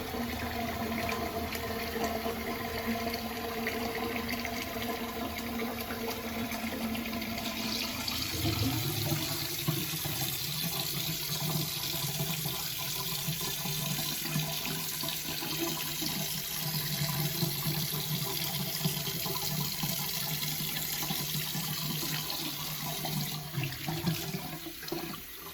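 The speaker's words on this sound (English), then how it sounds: "I'm gonna run some hot water again here." Hot water runs steadily from a tap into a sink during a straight razor shave, a continuous close rushing splash that shifts to a fuller, deeper flow partway through, with no talking.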